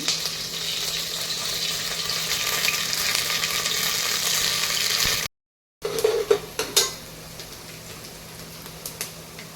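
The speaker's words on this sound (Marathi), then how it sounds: "यामध्ये आपण 2 कांदे कट करून घेतलेले आहेत ते टाकून घेऊ." Chopped onions for chicken biryani sizzle and fry steadily in a hot pan. A brief gap breaks the hiss, then clattering stirs and scrapes of a utensil against the pan come through over the continuing frying.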